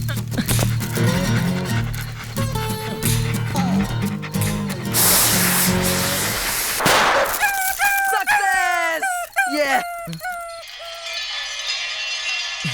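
A dog whimpers, yips and barks close by in a film scene, with high, sliding whines growing more insistent toward the end. Other noises and a voice are heard earlier on.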